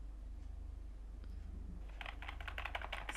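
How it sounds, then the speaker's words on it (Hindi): A budget semi-mechanical gaming keyboard is typed on up close, a quick run of crisp, clicky keystrokes starting after a quieter moment and continuing in a fast, uneven rhythm. "साउंड अच्छी आ रही है, मतलब पूरा मैकेनिकल कीबोर्ड फील नहीं आ रहा"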